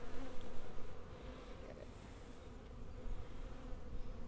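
Honey bees buzz steadily at an open hive during an overwintered colony workshop, a dense, close hum of many wings that swells slightly at the start and end, with no talk.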